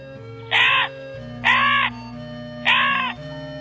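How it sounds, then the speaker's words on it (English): A crow caws three times, loud and close, each harsh call evenly spaced about a second apart over a soft, steady musical backdrop. "Once upon a time, there was a crow."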